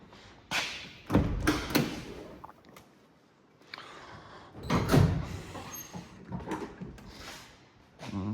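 The back door of an old van is tried and pulled open: several loud metallic thumps and rattles come in bursts, separated by quieter pauses, with a final clunk at the end.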